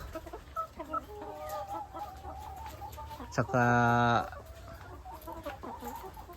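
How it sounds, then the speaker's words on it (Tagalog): Chickens in a layer poultry building set aside for culling keep up a scattered, low clucking chatter, broken by one loud, drawn-out squawk near the middle, while a voice speaks briefly. "yung ating for culling na mga manok"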